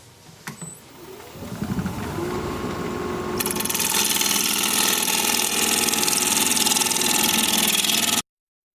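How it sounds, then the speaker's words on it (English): A hollowing tool cuts into a root ball bowl spinning on a wood lathe, a steady loud whirring scrape that builds after a few soft taps and runs continuously to the end without talk. "I think I might switch to carbide just to save time. We'll go with this hollowing tool."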